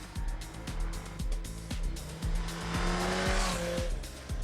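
A Yamaha naked motorcycle ridden hard at speed, its engine revving up and down through repeated gear changes, loud and close with wind rush building throughout.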